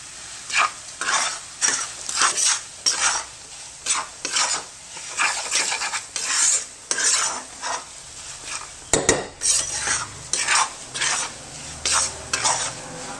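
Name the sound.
stirring moong dal roasting in ghee in pan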